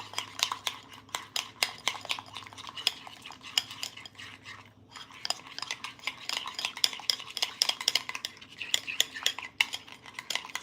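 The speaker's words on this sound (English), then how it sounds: "one tablespoon of mayonnaise. And we're gonna mix this very well" A spoon whisks mayonnaise sauce in a bowl, a steady run of quick, crisp clinks and scrapes repeating rapidly at close range, with no voices, rising and falling slightly in intensity throughout.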